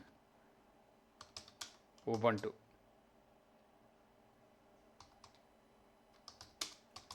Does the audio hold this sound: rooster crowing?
no